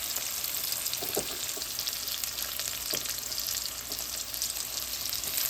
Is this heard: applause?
no